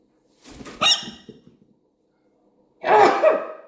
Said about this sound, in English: I'm sorry, I'm about to sneeze, I think.